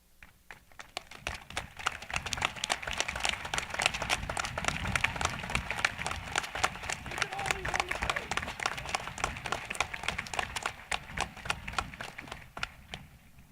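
Graduation-ceremony audience applauding parents, guardians and grandparents of the class of 2024 at Robinson High School, a long steady spell of many hands clapping that swells and slowly tapers, with faint voices mixed in.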